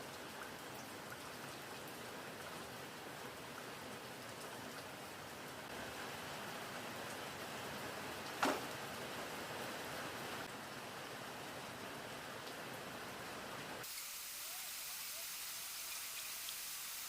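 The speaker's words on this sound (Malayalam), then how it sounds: "പുറത്ത് നല്ല മഴയുണ്ടായിരുന്നു, അതിൻ്റെ സൗണ്ടാണ് കേട്ടുകൊണ്ടിരിക്കുന്നത്." Heavy rain falls outside a Kerala home, a continuous even hiss of drops on surfaces that holds steady throughout, with one brief tap midway and a change in tone near the end.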